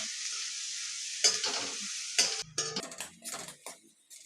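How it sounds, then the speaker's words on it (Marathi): Onion fries toward golden in a pan, a steady sizzle broken by a couple of sharp spatula knocks, then several quick scraping stirs and clatters as the hiss drops away near the end. "आता आपण कांदा मस्त थोडासा गोल्डन रंग येईपर्यंत फ्राय करूया"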